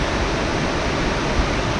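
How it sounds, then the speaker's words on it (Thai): Tall multi-tiered waterfall of over twenty steps, roughly a hundred metres high, in a Thai national park, a loud steady broadband rush of falling water with no voices. "น้ำตกเป็นชั้น น่าจะเกิน 20 กว่าชั้นนะครับ"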